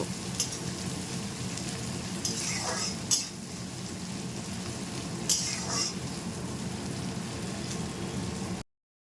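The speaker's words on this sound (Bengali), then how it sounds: "এই পেঁয়াজগুলিকেও কিন্তু আমি হালকাভাবে ফ্রাই করে নেব।" Two large chopped onions fry lightly in a pan with a steady soft sizzle, broken by a few scraping stirs of a spatula, close and alone without talk.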